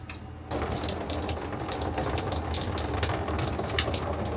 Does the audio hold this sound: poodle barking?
no